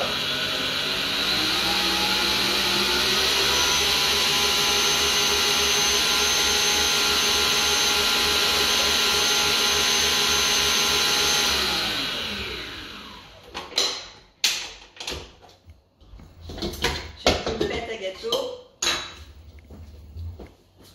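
An electric mixer whirs steadily and loudly through cake batter with whole cream for a vanilla-chocolate marble cake, then switches off, followed by scattered clinks and knocks of a bowl and utensils.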